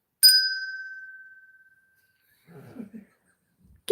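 A single bell strike rings out clear and bright, then fades over about a second and a half, followed by soft rustling noises.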